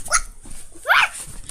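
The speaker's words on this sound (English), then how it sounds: "I see a white dog looking at me." A dog sound effect in a read-aloud picture book: two sharp barks, the second louder and higher, close and clear, alone without talk.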